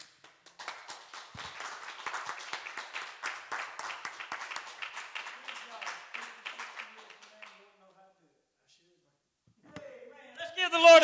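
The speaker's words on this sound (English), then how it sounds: "Let's give the Lord another great big hand clap." A church congregation claps together, a quiet, rapid patter of many hands for about seven seconds that fades into silence, followed by a voice speaking near the end.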